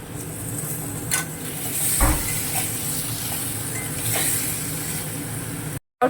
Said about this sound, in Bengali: তেল ছেড়ে আসলে ওর মধ্যে ভেজে রাখা ডিমগুলো এক এক করে এবং ভেজে রাখা আলুগুলো দিয়ে হালকা হাতে নাড়তে হবে